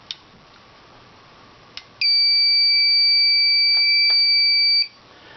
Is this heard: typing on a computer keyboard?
no